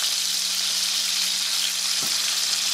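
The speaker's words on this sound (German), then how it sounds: "Ich werde Bratwürste umdrehen." Bratwurst sausages sizzle in a frying pan as they are turned, a steady, close, dense hiss of fat running throughout with a brief knock partway through; no one speaks.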